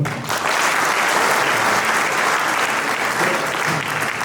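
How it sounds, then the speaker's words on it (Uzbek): Loud, sustained applause from a crowd at a graduation ceremony for an education centre's graduates, dense steady clapping throughout with no break. "bitiruvchilarimiz uchun bir qarsaklar bo'lsin."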